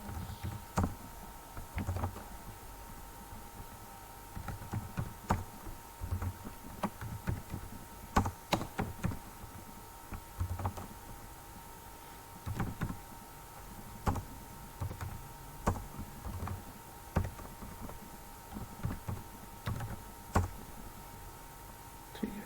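Code being typed on a computer keyboard, irregular bursts of close, crisp key clicks with short pauses, over a faint steady hum and soft background noise.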